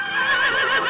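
A single close, loud whinny from a logging horse working in a Jura forest, a quavering call lasting about a second with no talk over it.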